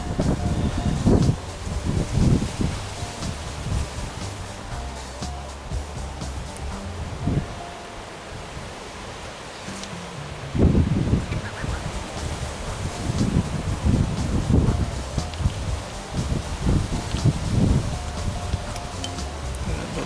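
Wind gusts outdoors in Ireland buffet the microphone during bicycle ball-bearing maintenance, giving a loud, low rumbling roar that swells and dips in bursts across the whole stretch.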